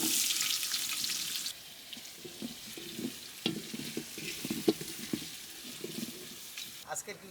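Chopped onion hits hot oil with bay leaf, cardamom and cinnamon for a large batch of mutton bhuna, a loud burst of sizzle that settles into quieter frying broken by stirring clicks.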